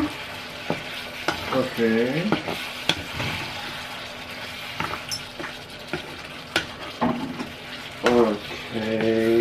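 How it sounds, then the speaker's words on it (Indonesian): Pork saksang is stirred in a hot pan, a utensil scraping and clacking in irregular strokes over a steady sizzle, with a brief spoken word in between. "Diaduk-aduk setelah dimasukkan."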